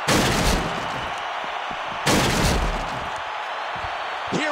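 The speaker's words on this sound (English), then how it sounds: "Through the barricade. Oh my God, they destroyed the barricade." A wrestler crashes through a barricade in the WWE 2K15 wrestling game, two loud impacts about two seconds apart, each a sharp burst that fades into sustained crowd noise.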